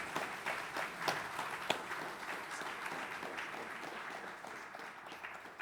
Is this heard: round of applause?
yes